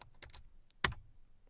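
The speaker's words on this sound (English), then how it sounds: "I do that just by typing C colon and pressing enter." A few quick keystrokes on a computer keyboard while working in PowerShell, soft clicks followed by one firmer key press, close and quiet with no talking.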